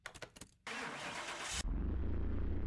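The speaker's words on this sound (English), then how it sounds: "give this little Hyundai a lovely little engine purr" A widebody Hyundai i30N engine cranks and fires in Car Mechanic Simulator 2021, a short starter whir giving way to a sudden catch and then a steady, loud, low idle rumble. Nearby clicks come just before the crank.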